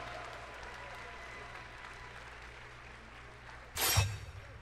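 A crowd at an esports watch party for a Smash Ultimate tournament final bursts into a short, loud round of applause near the end, after a stretch of low room noise.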